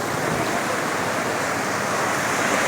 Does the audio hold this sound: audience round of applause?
no